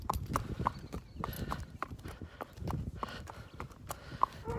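Hooves clip-clop in an uneven walking rhythm close by, a series of sharp knocks over a low outdoor rumble.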